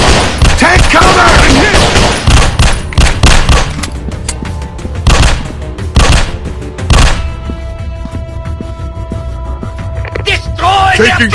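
Loud, dense gunfire from the mobile shooter Critical Strike Modern Combat, with sustained volleys and repeated sharp shots over roughly eleven seconds, easing slightly toward the end; voices speak intermittently.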